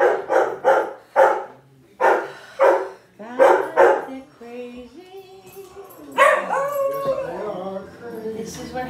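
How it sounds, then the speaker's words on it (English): Several dogs in a home kitchen bark in loud, evenly spaced bursts, then break into howls and whimpering yips, close by and with no talking over them. "what are they barking at?"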